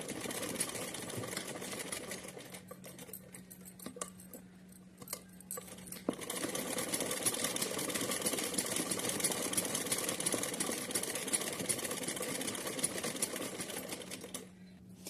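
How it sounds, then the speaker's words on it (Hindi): A sewing machine double-stitches cotton fabric for a small summer outfit for a Laddu Gopal idol, a steady buzzing hum that pauses briefly then runs continuously at close range, with no talking. "चलिए यहाँ हम अब डबल सिलाई लगा लेते हैं खटका करते हुए"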